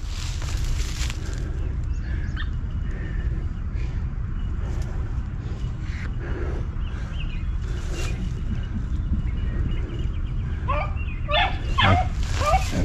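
Five-month-old rabbit dogs in spring training yip and whimper as they chase through brush, the high calls faint and scattered at first, then clustering more clearly near the end over a steady outdoor rumble, with a voice now and then.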